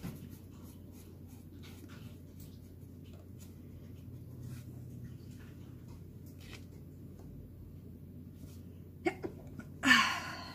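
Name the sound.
sneeze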